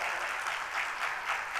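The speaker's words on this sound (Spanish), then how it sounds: "Por favor, un fuerte aplauso." Audience applause greets a doctor introduced at a medical debate on colon procedures: a steady, continuous wash of clapping from a crowd, even in loudness throughout, with no voices standing out.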